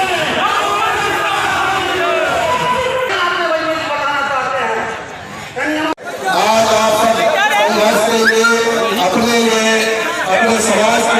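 Large crowd gathered at a farmers' protest site, a loud dense mass of chanting and shouting voices filling the space continuously, close and busy, with a short dip midway.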